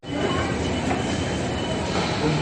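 A Kolkata Metro train arriving at an underground station, a loud steady rumble of wheels on rails with faint squeals and clatter, close and continuous.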